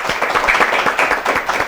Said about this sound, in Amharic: እስቲ አጨብጭቡላት፣ ድጋሚ አጨብጭቡላት።